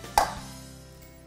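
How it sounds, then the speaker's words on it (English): A single sharp crack of an egg against a hard edge, close and clear, followed by quiet room tone with no talk. "crack my eggs and give them a little whisk"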